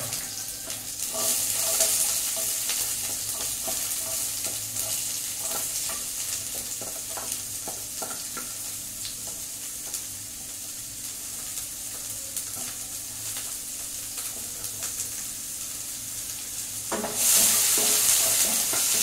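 Onions and browned urad dal frying in a pan for semiya upma, a steady broad sizzle with intermittent stirring scrapes throughout, rising louder near the end as the food is moved about.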